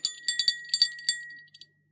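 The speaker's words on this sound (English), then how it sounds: "My bell for winter steelhead." A small fishing bell used for winter steelhead rings in a quick series of bright, close metallic tinkles, with a short pause before two final soft dings and no voices.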